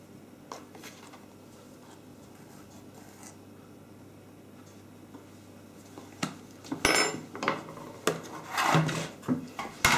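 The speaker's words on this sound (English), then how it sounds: "And that just gets all stirred up together." Baking powder is stirred into a low-protein fruit scone mixture in a bowl. After a quiet start, scraping and clattering utensil sounds and soft knocks pick up through the second half.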